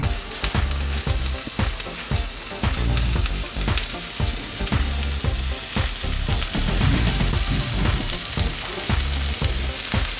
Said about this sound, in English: When I'm cooking the gnocchi, the way I like it is when it has golden brown crisps on all sides.